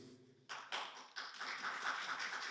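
Audience applause breaks out to welcome a professor to the podium at a lecture on Ukraine and Russia, starting with a few scattered claps then swelling into steady, dense clapping from a room of listeners.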